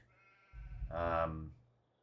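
A sheep bleats once in the Farming Simulator 22 video game, a single drawn-out nasal bleat lasting about a second, fairly close and clear over a quiet background.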